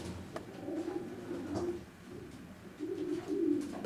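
Soft, repeated cooing of racing pigeons in a stock loft, low throaty phrases, several birds murmuring together at close range with faint rustling in the background.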